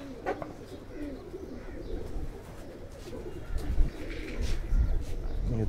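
Pigeons of a lightweight Ferozpuri and Faqeergull mixed breed coo softly in a loft setup, low repeated murmurs over a steady background hum, with brief chirps and a faint voice here and there.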